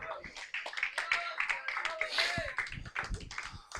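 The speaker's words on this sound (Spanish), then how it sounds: "¿Cuántos pueden darle un aplauso a Dios?" A church congregation applauds, a dense crowd clapping with scattered voices and cheers over it, fairly loud throughout.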